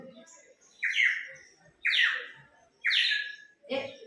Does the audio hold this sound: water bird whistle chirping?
yes